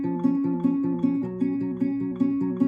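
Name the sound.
acoustic guitar plucking, verse 3 part 2 of a song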